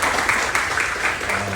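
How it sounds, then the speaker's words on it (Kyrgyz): Audience applause at the opening of a halal meat market in Chicago: a steady, dense wash of clapping that holds at an even level for the whole short stretch. "Кол чабып койсоңуздар"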